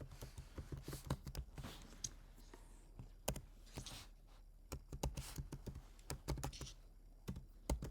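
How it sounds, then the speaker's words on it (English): Keystrokes on a computer keyboard entering a message into a meeting chat window, in quick irregular bursts of close, crisp clicks with brief pauses between words, no voices. "So I'm going to use the chat window and I'm going to type it."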